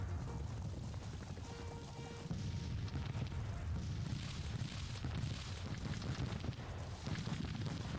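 Battle din from Grand Tactician: The Civil War, a dense continuous roar of massed musket fire and rumbling artillery with low booms throughout, steady and loud across the whole stretch, no voices.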